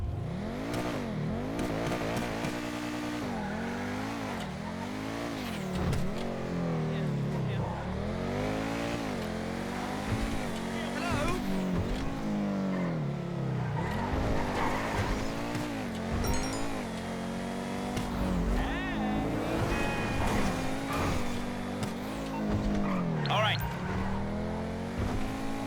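Pegassi Osiris supercar in GTA Online revs hard through repeated rising and falling engine sweeps, with tire squeals between, loud and close for a long stretch, with some talk mixed in.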